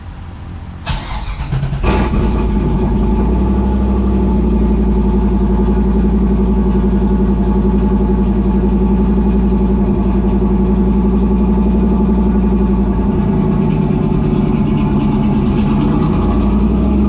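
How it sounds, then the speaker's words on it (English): A Trans Am engine is cold-started: a brief crank catches, then settles into a loud, steady, rumbling idle heard up close. "why not give you guys a cold start on the TA?"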